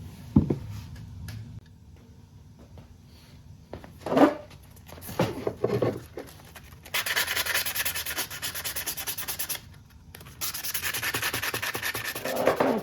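Edges of a shop-built all-metal router plane are eased by hand, with scattered clicks and knocks giving way to bursts of steady, rasping abrasive rubbing, close and moderately loud, with no talk.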